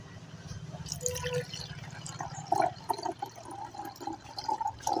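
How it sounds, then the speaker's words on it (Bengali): Leftover rice water, used as a homemade liquid fertilizer, is poured slowly from a container, giving a soft trickle with faint drips and splashes against a low background hum. "দেখুন, এবার আস্তে করে ঢেলে নেব।"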